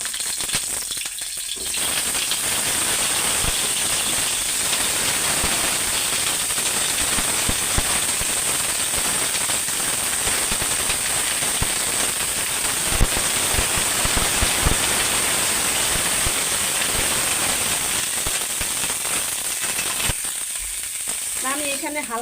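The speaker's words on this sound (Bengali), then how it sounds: "তো তেল গরম হয়ে গেছে, কফিগুলি ভাজা দিয়ে নিই।" Cauliflower florets fry in hot oil with a steady, dense crackling sizzle that runs close and even for the whole stretch, with scattered sharper pops and no break.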